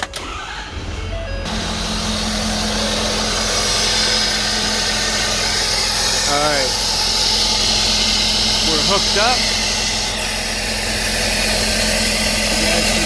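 A diesel engine in a 2015 Ford F550 with a 6.7 Powerstroke idles loudly and steadily close by, with someone speaking briefly over the rumble.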